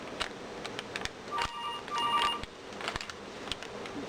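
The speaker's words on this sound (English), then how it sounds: "the phone distracted me" A telephone rings nearby with short repeated electronic trill bursts, heard over light rustling and tapping sounds of paper and craft supplies being handled.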